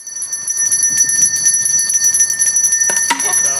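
A Salvation Army red kettle hand bell rings steadily and loudly in fast, bright repeated strokes, with a brief burst of other sound near the end.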